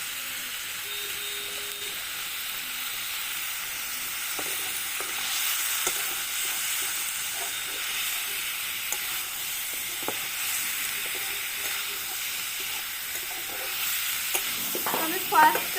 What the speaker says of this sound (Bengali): আমি ফার্স্ট টাইম নিজে হাতে মাংস রান্না করছি।